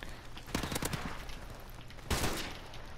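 Gunfire in the video game Modern Warfare Remastered, two bursts of sharp rapid shots with a lingering tail, moderately loud against low background hiss.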